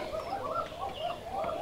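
A female Giribaj pigeon coos in soft, low, repeated rolling notes, close by, forming a short run of throaty pulses with no other sound over it.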